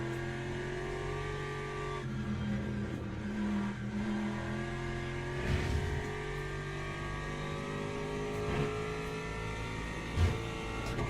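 An Aston Martin race car engine in the sim racing game Le Mans Ultimate holds a steady, loud drone with shifting pitch, a few brief revving swells breaking through, and no talk over it.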